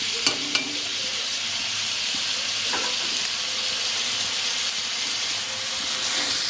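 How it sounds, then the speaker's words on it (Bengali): Onions with salt, turmeric and chilli powder fry in oil in a pan for chicken makhani, giving a steady, close, crackling sizzle throughout, with a couple of light stirring clinks near the start. "আবারও আমি সুন্দর করে ভাজা ভাজা করে নেব, কষিয়ে নেব।"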